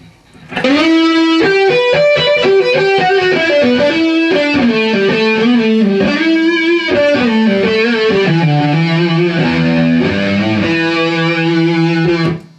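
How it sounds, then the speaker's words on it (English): Distorted electric guitar played on the neck pickup, a loud sustained melodic line of bending, gliding notes with thick saturated overtones, ringing continuously throughout without any voices. "Go to the neck pickup with a distortion."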